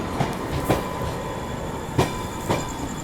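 New Delhi Prayagraj Humsafar Express running at speed, a steady broadband rumble of wheels on rail with periodic clacking thumps at irregular intervals, heard from on board, no talk.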